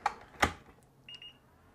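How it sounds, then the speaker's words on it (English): A battery gives a short, high electronic double beep, quiet and close, after a couple of sharp handling clicks. "okay, that one does a double beep"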